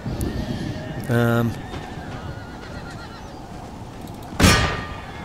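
A horse neighs in a battle of the strategy game Empire: Total War, one loud whinny followed a few seconds later by a sharp clang, with battle ambience and someone talking over it.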